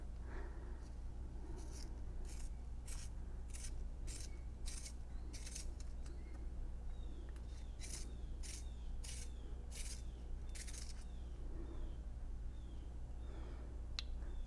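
Blackwing hand pencil sharpener shaving a broken Dixon Ticonderoga pencil, a quiet series of sharp, regular scraping clicks as the blade turns, pausing briefly midway, then resuming, close and faint over a low hum.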